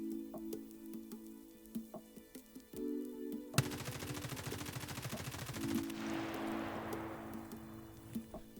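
Rapid automatic gunfire from a rifle with an IR laser switched on, in Escape From Tarkov, a tactical shooter game, comes after a steady tonal hum and ticking and runs as a fast continuous burst, fading into a decaying echo.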